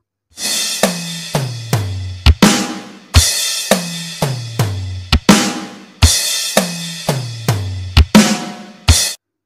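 An acoustic drum kit plays a repeated fill-and-hit pattern three times at standard tempo, with sharp cymbal crashes and descending tom strikes in each phrase, loud and close with no talking.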